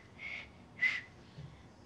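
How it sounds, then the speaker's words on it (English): A child whistles two short, faint, airy notes, the second slightly stronger, with quiet pauses around them. "can you whistle?"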